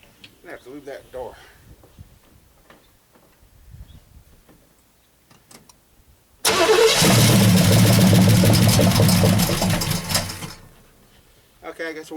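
Quiet voices and small handling noises come first, then a Camaro engine cranks and fires on the key, running loud and steady for several seconds before dying back down.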